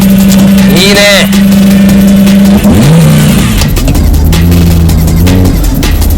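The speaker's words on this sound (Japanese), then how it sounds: "なんかアクセルをファンファンとこうレーシングして吹かした感じが 大排気量のオートバイみたいなレスポンスの良さと音がね" A sports car engine blips and revs under throttle, its pitch rising and falling in several quick sweeps over a loud steady drone while someone talks over it.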